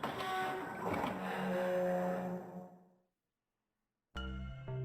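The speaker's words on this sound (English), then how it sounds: "This door looks heavy. But it's not locked. I'm opening it." A heavy door in the video game Nine Hours, Nine Persons, Nine Doors grinds open with a loud, sustained mechanical rumble that fades to silence, then a new droning tone starts abruptly.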